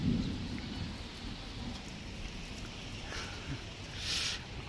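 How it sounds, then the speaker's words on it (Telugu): A low, distant rumble of thunder rolls beneath steady falling rain, with a few faint brighter spatters of drops near the end. "ఏదో ఉరుము వస్తుంది అనేసి"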